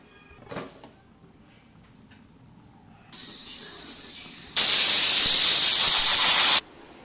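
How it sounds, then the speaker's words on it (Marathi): A pressure cooker cooking carrots for carrot halwa lets out a single whistle: a steady hiss starts partway through, then swells into a loud, bright, sustained rush of escaping steam for about two seconds before cutting off. "आता आपण कुकरची एक शिट्टी करून घेऊया"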